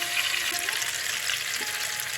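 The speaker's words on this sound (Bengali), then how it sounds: "ভাজা হয়ে গেছে, বেগুনটা ভালো করে ভেজেছি নুন আর হলুদ দিয়ে।" Eggplant with salt and turmeric frying in a pan gives a steady, close sizzling hiss with light crackles and no voices.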